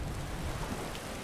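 Steady rain falls in the video game Skyrim, a dense, even hiss of rainfall filling the scene without pause and with no voices.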